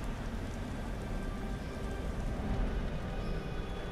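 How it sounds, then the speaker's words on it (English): Rain in the video game Beyond: Two Souls, a steady, even hiss of falling drops that holds at a low, constant level throughout with no breaks. "God damn rain."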